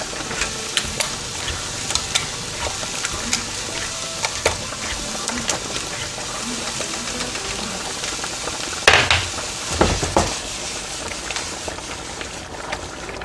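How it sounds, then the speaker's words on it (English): Food sautéing in a pan for lasagna, a steady close sizzle with scraping stirs throughout and a couple of louder clattering stirs near the end, no talking. "Just saute it."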